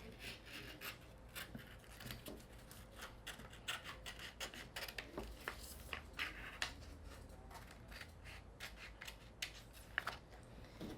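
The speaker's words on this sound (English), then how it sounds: "I'm going to cut it out of the vinyl." Scissors or a blade cutting through vinyl sheet, a faint steady run of rapid snipping and rubbing scrapes, close and quiet, with no talk.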